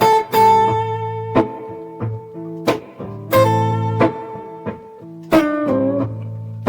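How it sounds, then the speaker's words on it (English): An electric guitar plays a blues riff, with clear picked notes separated by pauses that leave open space between the phrases. No voices. "I'm going to play the first riff and just let it sit for a second."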